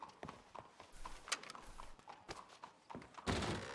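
Horse hooves clip-clopping in a video game, a run of close, uneven hollow knocks with a few heavier thunks, ending in a burst of broadband noise.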